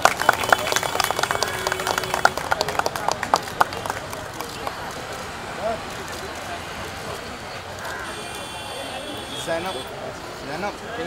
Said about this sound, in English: can I have a big round of applause for this amazing woman